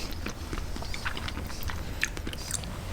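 Close, wet chewing and squishy biting of fresh raw liver in a mukbang, soft repeated mouth sounds with a few sharper smacks, no talking.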